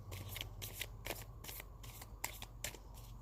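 Tarot cards are shuffled in quick, quiet bursts of riffling, about eight separate shuffles repeating at an even pace over a low background hum.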